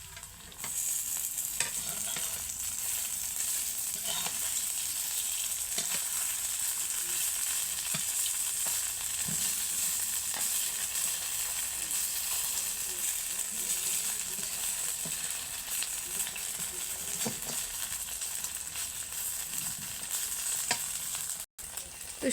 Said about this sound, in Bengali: এখন উল্টে পাল্টে ভেজে নিব